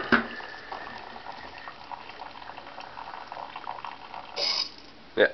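Hot water streams steadily from an Arduino-controlled tea-brewing robot into a cup of red tea with orange and apple, a continuous close hiss and bubbling, with a couple of brief louder clinks near the end.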